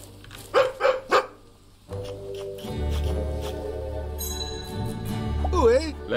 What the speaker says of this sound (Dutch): Hé, hey, de hond vindt iets.